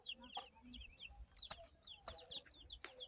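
Chickens cluck softly on an off-grid village homestead farm in Uganda. Several short, faint calls come from a moderate distance over a quiet outdoor background.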